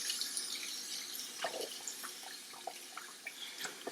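Tap water runs steadily into a sink while chitterlings are rinsed, a soft continuous splash broken by scattered drips and small clinks, fairly quiet with no voices.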